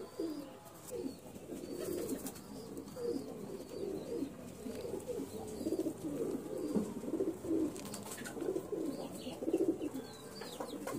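Steady low pigeon cooing, repeated throaty burbles continuing for several seconds, close and fairly soft, with faint chirps in the background.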